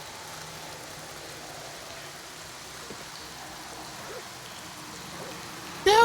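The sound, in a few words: rain in a video game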